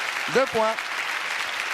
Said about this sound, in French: applaudissements pour Raymond qui a trouvé Garni